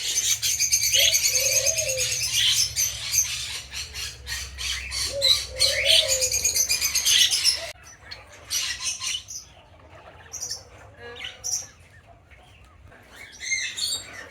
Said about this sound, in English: Look at the doves up there.